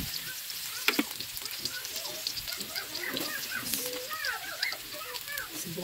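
Garlic frying in a pan, a steady crackling sizzle with scattered pops filling the whole stretch, with faint bird chirps in the background.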